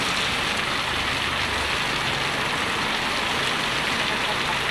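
Heavy rain pours down in a loud, dense, unbroken roar that fills the whole stretch, with no voices.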